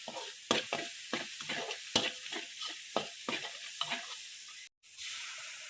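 Hot oil sizzles steadily in a pan while a utensil stirs in repeated scraping strokes, a close, fairly loud run of short stir sounds over a continuous fry hiss, with a brief drop to near silence near the end.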